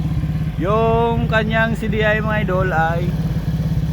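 A Motor Star motorcycle engine with a DC CDI fault and no battery runs steadily and close by, its pulsing beat continuous under someone talking throughout.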